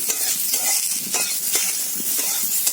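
Potatoes fry in oil in a kadai until browned, giving a dense, continuous loud sizzle with light stirring scrapes, close up and with no talking.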